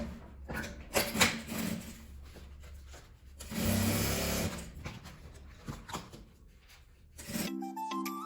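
A sewing machine runs in bursts, stitching along folded bias binding, its steady whir rising and pausing close by with a few handling rubs between runs.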